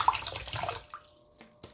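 Bottled spring water poured out, a short close splashing gush that stops, followed by a few faint drips and small knocks.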